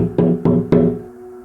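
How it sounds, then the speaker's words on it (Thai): Three firm knocks bang on glass from behind at an even, measured pace, each ringing briefly before fading, loud and close with no talk. "ก็ได้มีเสียงเคาะกระจกทุบมาจากทางด้านหลัง"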